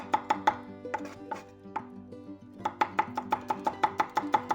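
Garlic being finely chopped with a knife on a cutting board for a pie filling, quick rhythmic knocks in rapid bursts, a short pause, then a longer, steady run of close, crisp chops.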